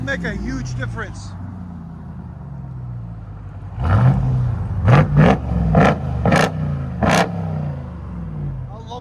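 A RAM TRX pickup with an aftermarket exhaust revs hard in several loud, close bursts, each rising sharply and then dropping back to a deep idle rumble. Indistinct voices are heard before the revs start.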